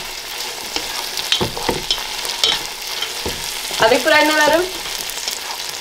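Biryani masala with mint and coriander leaves being stirred in a hot pot: a sizzling fry under irregular scraping strokes, with a brief voice speaking near the end.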